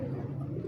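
A big, sturdy female pigeon cooing in a continuous low, throaty rolling burr, close and steady with no talking.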